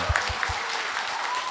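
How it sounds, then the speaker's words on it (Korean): Residents at a public hearing on easing the Bukhansan height restrictions clapping, a brief burst of crowd applause with a few louder close claps at the start. "북한산 고도 제한의 3가지 완화 방안에 대해서 동의하시면 큰 박수 한번"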